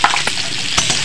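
Potatoes with turmeric are stirred in a hot frying pan, a close, loud sizzle with scraping strokes of the spoon against the pan.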